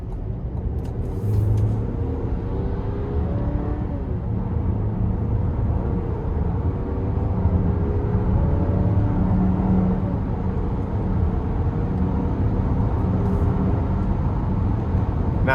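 A 2026 GMC Acadia Denali Ultimate FWD pulls away under acceleration on the road, a steady, loud engine and road rumble building smoothly from inside the cabin, with a faint rising tonal whine and no talk.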